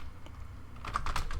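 Keystrokes on a computer keyboard as a function name is typed into a PLC programming environment, a quiet pause and then a quick burst of several close, crisp clicks in the final half second.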